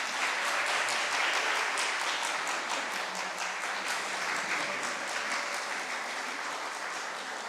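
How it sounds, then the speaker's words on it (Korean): Loud applause from a church congregation during a Sunday morning service at an air force base chapel. Many hands clap in a dense, continuous roar that stays strong for the whole stretch. "박수 소리가 아주 그냥 너무 큽니다"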